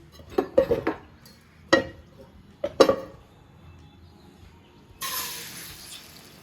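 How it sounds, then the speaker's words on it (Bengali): A utensil stirs iftar food in a pan, giving several sharp metallic clinks and scrapes in uneven bursts, followed by a brief hiss near the end. "একটু নাড়া দিয়ে নেই"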